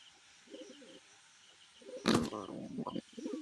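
A pair of White Lotan pigeons gives soft, low cooing in short bursts, with a sharp brief noise near the middle, while faint talk runs alongside.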